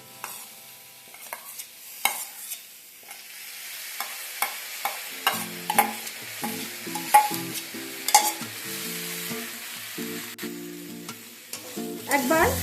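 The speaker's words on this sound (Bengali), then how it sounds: "একবার সমস্ত কিছু মিশিয়ে নেব ডালটা দেবার পর" A spoon stirs fried mung dal into oats khichdi with fried vegetables in a pan, making repeated scraping clacks over a steady soft sizzle, close and alone.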